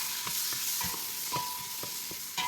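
White onion sautéing in melted butter in a pan for pineapple chicken, a steady close sizzle with repeated soft scraping stir strokes at a regular pace.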